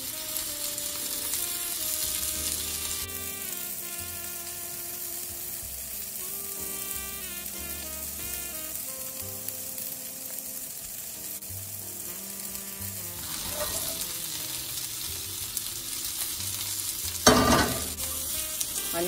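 Blackened shrimp sizzle steadily in olive oil in a skillet, a continuous close hiss holding for the whole stretch over a faint tonal background, with a short louder flare toward the end.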